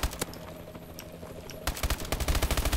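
HBR rifle fire in Call of Duty: Advanced Warfare multiplayer, a single shot followed by a quieter stretch, then a rapid, loud burst of automatic fire to the end.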